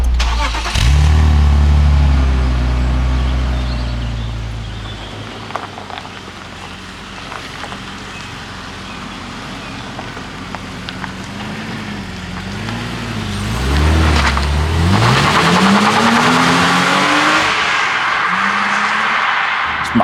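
A BMW Z3 engine runs close by at a steady idle, then revs repeatedly, with the pitch rising and falling before a final hard climb into a loud, sustained rev.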